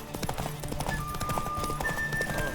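Galloping horse hooves beat rapidly in The Witcher 3 during a horse race, a whinny rising above dense game music and ambience, loud and close throughout.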